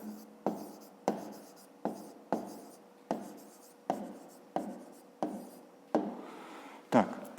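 Pen writing an answer by hand on paper for a fifth-grade maths exercise, heard as about ten short scratching strokes in a steady rhythm, close and clear, with no talk.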